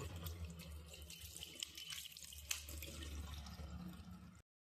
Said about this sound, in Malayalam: അതുപോലെ അകംവശവും പൈപ്പിൻ്റെ ഫോഴ്സ് കുറയ്ക്കണം കേട്ടോ, ഇതുപോലെ. എന്നിട്ട് രണ്ട് വശവും ജസ്റ്റ് ഒന്ന് കഴുകുക